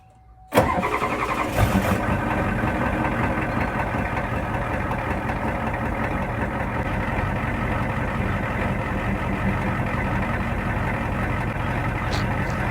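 Ford F250 with a 7.3 diesel engine after sitting overnight: a sudden cranking catch into a clean start, then a steady, even diesel idle rumbling close by for the rest of the time.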